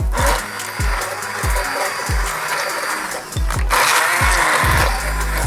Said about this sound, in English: So we're just gonna blend it up.